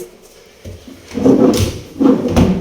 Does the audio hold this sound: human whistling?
no